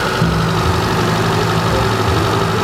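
A car engine idles steadily after being restarted following repairs at a mechanic's shop, a loud, close, even low rumble with a constant hum and no talking.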